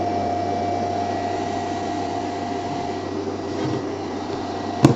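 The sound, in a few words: hybrid inverter cooling fans running at second speed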